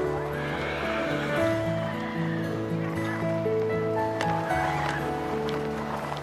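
A horse whinnies loudly in a snowy Alpine setting at Ramsau below the Dachstein while being hitched up for a traditional sport, with several long neighing calls and some background animal sounds and no speech.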